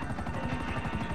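Helicopter in the video game GTA Online, a steady chopping rotor drone with a pulsing low thump, loud and continuous throughout with no talk over it.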